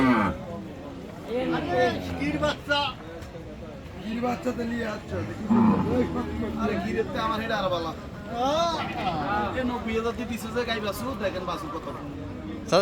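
Cattle at Raniganj livestock market in Dinajpur, including a Sahiwal cow with calf, amid a busy crowd; people talk nearby throughout, with occasional animal sounds mixed into the babble.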